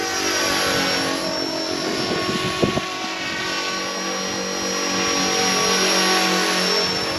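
A scale model helicopter under a kilo flies outdoors on a windy day near a fog bank, its rotor and motor giving a steady high-pitched whine at moderate distance, with a brief rustle partway through.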